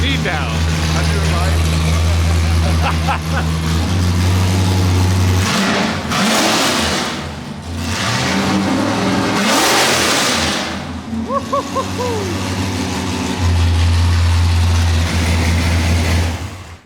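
A 468 hp LS V8 in a race truck revs hard and loud nearby, with sustained throaty roars and rising, falling pitch sweeps, while excited people talk and shout over it.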